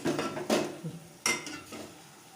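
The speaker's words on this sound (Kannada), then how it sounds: "ಸೊ ಇವಾಗ ಇದಕ್ಕೆ ಚಿಕನನ್ನು ಹಾಕೊಳ್ಳೋಣ." Chicken frying in a hot pan and being stirred with a utensil, quiet sizzling broken by a few scraping strokes and clinks of the spatula against the pan, close by with no talk.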